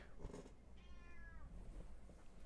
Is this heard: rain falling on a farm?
no